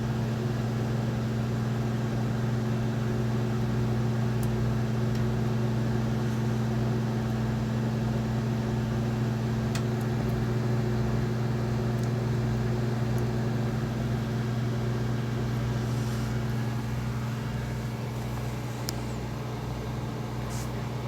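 A Commercial Chef microwave oven of 600 cooking watts, powered through a Victron 12/1200 inverter, runs with a steady, unbroken electrical hum and drone, constant and fairly loud for the whole stretch.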